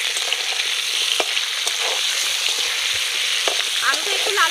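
Potatoes fry in oil seasoned with salt and a little turmeric, a steady close sizzle that runs throughout with occasional stirring scrapes and clicks, no voices.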